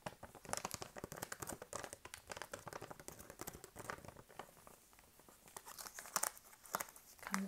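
Crinkling of a small plastic bag holding Lakshmi brand turmeric powder, with close, continuous rustles and crackles throughout and a few sharper crinkles near the end.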